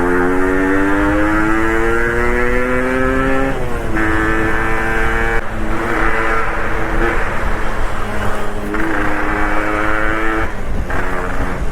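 A Yamaha RXZ motorcycle engine revving hard and close: a loud, continuous buzzing whine that climbs in pitch, drops back and climbs again several times.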